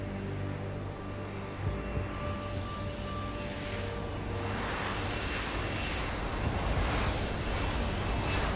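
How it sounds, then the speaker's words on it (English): A helicopter in the video game Deus Ex Human Revolution flies away in a transition sequence, a steady droning engine and rotor roar with a rushing wind-like wash that swells in the second half. "the obligatory transition sequence of the helicopter flying away"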